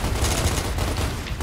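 Lancer assault rifle fire in Gears of War Ultimate Edition comes as a loud, dense burst of rapid shots with heavy low booms, filling the whole short stretch without talk.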